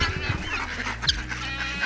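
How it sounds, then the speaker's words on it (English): A chicken perched on a person's back gives short, close clucking and honking calls over faint outdoor background noise, with other fowl such as ducks nearby. "There's a chicken on my back, you guys."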